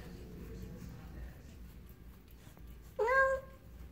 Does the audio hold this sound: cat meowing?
yes